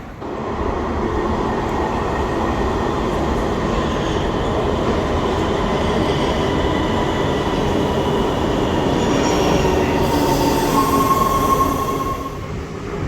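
A Los Angeles Metro subway train running toward Hollywood and Vine station, a loud steady rumble of wheels on track with faint rhythmic clatter and a thin wheel squeal near the end, heard from inside the car.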